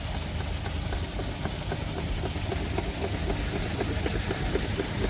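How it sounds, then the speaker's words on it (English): Miniature steam engines chug and knock steadily at the Driffield steam fair, a rapid rhythmic mechanical beat with a busy crowd murmur behind it. "what a fantastic array of miniature steam engines we've got here at Driffield"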